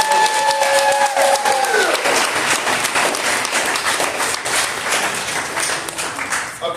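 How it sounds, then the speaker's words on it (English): Audience applause at an awards celebration, a dense, sustained burst of clapping filling the room, with a faint whistle-like tone in the first two seconds before the clapping slowly thins. "Can y'all just give a round of applause for Miss B?"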